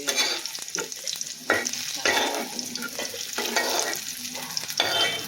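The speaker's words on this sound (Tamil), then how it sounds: "இதை இப்போ நம்ம வறுத்து எடுத்து ஒரு தட்டில் வச்சுக்கலாம்." Ingredients for ridge gourd chutney fry and sizzle in a pan with repeated stirring scrapes, close up and fairly quiet, without any talking.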